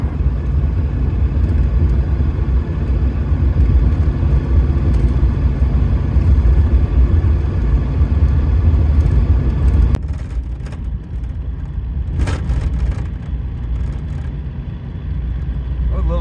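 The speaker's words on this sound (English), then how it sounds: "Truck's doing okay with the summer slicks on so far." A truck on summer slick tires drives a road toward the Sierra with a dusting of snow, giving a loud steady rumble of engine and road noise that drops lower and rougher partway through.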